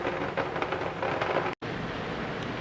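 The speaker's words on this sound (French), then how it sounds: "Il pleut dans le puits de lumière, puis c'est beau." Rain falls on a skylight in a home with a steady, dense hiss of patter. It continues alone without voices and cuts out for a brief instant partway through.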